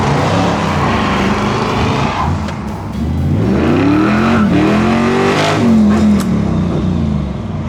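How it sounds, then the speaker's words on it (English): A 1960s Ford Mustang engine revs loud and close, its deep exhaust note rising and falling through several throttle blips over a steady road rumble, with no talking. "Oh, that Mustang sounds good. That Mustang sounds really good."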